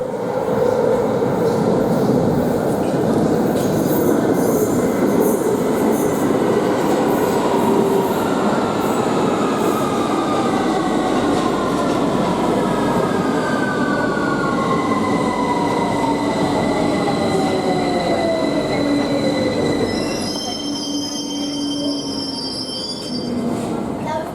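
A London Underground tube train runs loud and close, a dense rumbling roar of wheels on track with long rising and falling squeals from the rails, easing slightly near the end as faint voices sit beneath.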